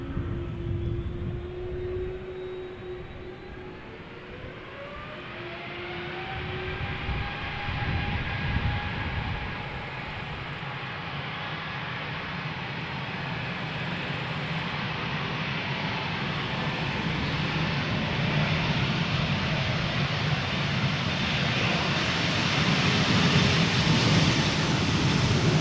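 A two-year-old KLM Embraer 195-E2 jet, bound for London Heathrow, takes off at Amsterdam Schiphol: engines spool up with rising whining tones, then a loud, broad roar builds steadily and close, alone without voices.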